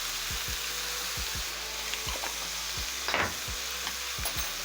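Spices of cumin, paprika and black pepper are stirred into meat frying in a pan, with repeated scraping strokes of a utensil over a steady sizzle, close and clear.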